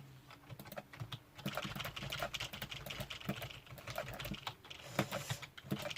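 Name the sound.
typing on a normal non-mechanical computer keyboard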